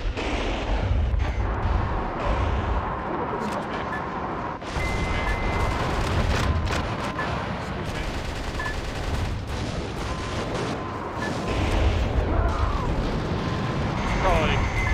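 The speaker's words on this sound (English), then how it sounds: "So I used my rocket launcher." Rocket launcher blasts and rolling explosions in the video game Metal Wolf Chaos, with dense overlapping booms and gunfire-like bursts, loud and continuous for the whole stretch, with voices occasionally audible beneath.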